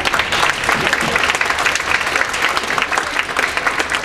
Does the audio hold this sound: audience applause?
yes